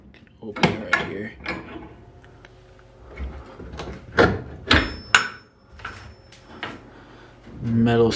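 Homemade wooden reptile enclosure door with stapled metal screen being opened and handled, a series of sharp knocks, clacks and rattles spaced irregularly, close by, with a person talking throughout.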